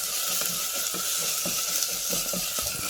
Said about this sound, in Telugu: ఇది కూడా ఒక 2 నిమిషాలు ఆయిల్లో ఫ్రై చేసుకోండి